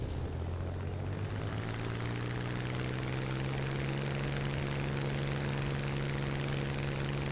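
A Supermarine Spitfire's piston engine in the War Thunder flight game drones steadily at a constant, fairly loud level, a dense low hum with a brief high click at the start and no speech.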